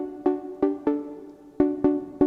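Dry, unprocessed Serum synth preset in a progressive house style playing a simple melody of plucked notes, six short, evenly spaced hits with a brief gap in the middle, clean and close with no voice.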